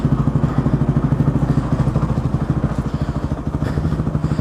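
Honda TRX 450R ATV engine under way on a snowy ride, a loud, rapid, even thumping putter that pulses continuously close by, with no voices.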